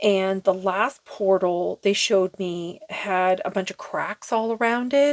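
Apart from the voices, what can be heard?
No distinct noise like a dog, phone or traffic.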